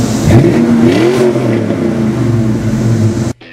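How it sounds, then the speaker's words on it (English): A Fox Body Ford Mustang engine revs up loudly and holds a rising, growling tone, then cuts off abruptly at the end. "Irresponsible revving aside"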